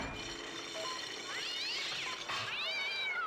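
Cat meowing on a radio broadcast in Big Mutha Truckers 2, two drawn-out rising and falling meows over a soft background hum, fairly close and clear.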